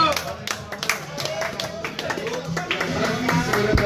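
Birthday party applause, scattered hand claps from a small group mixed with lively voices talking and cheering, close and irregular throughout.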